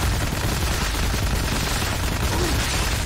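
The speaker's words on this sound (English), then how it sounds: "He's just gonna be shooting at me the whole time." Enemy gunfire in the shooter game WRATH: Aeon of Ruin, a dense, continuous rumble of overlapping shots and blasts that stays loud and unbroken throughout.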